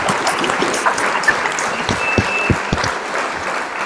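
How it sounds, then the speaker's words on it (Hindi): Steady applause from a studio audience greeting a guest, even clapping throughout with a few sharper individual claps standing out. "कृपया तालियों के साथ इनका स्वागत कीजिए।"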